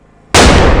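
Det cord set off against a ballistic torso: after a brief quiet moment, a single sudden, very loud close blast erupts and keeps roaring densely to the end.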